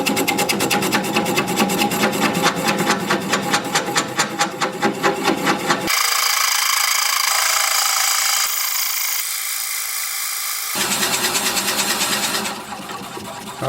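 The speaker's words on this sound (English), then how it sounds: "so I'm going to drill it out. We'll have the lathe spinning at about 250" A drill bores into a small wooden candle holder spinning on a wood lathe at about 250 rpm, giving a steady rapid chatter and whir that cuts out midway, returns, then tapers off near the end.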